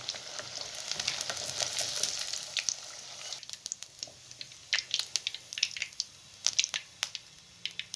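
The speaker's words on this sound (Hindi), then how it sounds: "इसी तरीके से आपने तमाम बोटियों को अच्छे तरीके से फ्राई कर लेना है।" Mutton pieces frying in hot oil for an Eid mutton fry give a steady crackling sizzle, with a denser hiss early on and then sharper separate pops and spatters, close and moderately loud with no talk.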